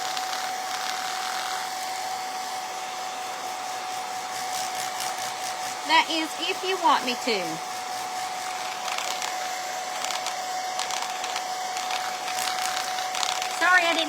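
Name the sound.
hair dryer drying paint coats on wood quilt block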